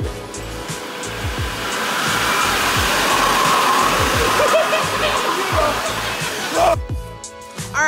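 A leaf blower roars steadily at close range, a loud rushing blast of air that holds for most of the clip before briefly cutting out near the end, with people talking over it.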